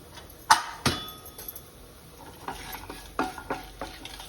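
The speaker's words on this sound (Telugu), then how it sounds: "ఇప్పుడు ఆవాలు 1 చెంచా వేద్దాము" A spoonful of mustard seeds hits hot oil for ridge gourd and tomato chutney: two sharp clattering knocks up front, then a quieter spread of crackling sizzle with scattered pops, close by and without speech.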